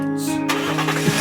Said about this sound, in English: Reassuring engine noises filtered into the cabin.